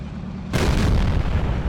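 A tank gun fires at an E-100 in a video game, one sudden heavy boom followed by a rumbling, decaying roar.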